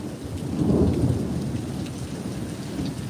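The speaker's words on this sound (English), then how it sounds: "This is what I would call a garden variety severe thunderstorm." Severe thunderstorm at Rockaway Beach, with loud, steady rain and a deep rumble of thunder swelling early on and fading under the constant downpour.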